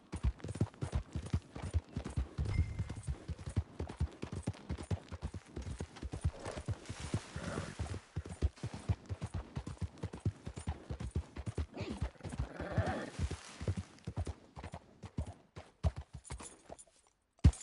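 Horse hooves trotting in Red Dead Redemption 2, a steady rapid clip-clop rhythm running close and clear throughout, with light rustle and a brief snort-like burst near the end.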